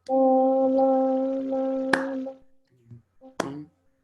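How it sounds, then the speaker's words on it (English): During a music counting exercise, a sustained sung or hummed tone gives way to two sharp, isolated hand claps, one in the middle and one near the end, with quiet murmurs between them. "The clap is distracting."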